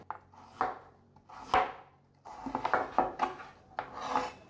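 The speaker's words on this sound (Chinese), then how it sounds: "把红萝卜切片。" A knife slices a peeled carrot on a cutting board, with several crisp, close chopping thuds at an uneven pace and short gaps between cuts.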